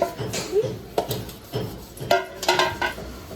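A girl scrubs dishes, pots and pans, producing repeated clinks, scrapes and knocks of metal and utensils in an irregular rhythm, close and moderately loud, with a little background chatter.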